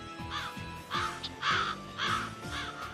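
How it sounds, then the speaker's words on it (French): Several black crows caw in a slow series of harsh, hoarse calls, each call a short burst with pauses between, fairly close and loud over a steady low background hum. "Je n'aime pas ça, des oiseaux noirs, oiseaux de mauvais augure."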